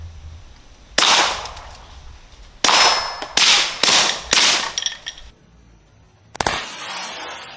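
Taurus handgun firing silver bullets at a cantaloupe outdoors, several loud sharp cracks spaced irregularly, one early shot followed by a quick cluster of four and a final shot after a pause.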